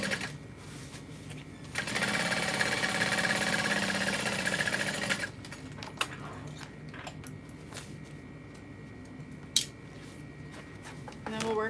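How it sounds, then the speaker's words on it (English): A sewing machine topstitches binding down, whirring steadily for a few seconds, then giving way to quieter handling and clicks, with speech faintly in the background. "I'm going to go ahead and top stitch this down just because I think it'll sit nicely."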